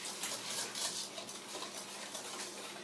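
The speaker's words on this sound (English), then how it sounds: "we're going to take our whisk and we're going to start creaming that together" A whisk scrapes and clicks rapidly against a bowl as eggs and other ingredients are creamed together by hand, a close, steady rhythmic rattling with no talk.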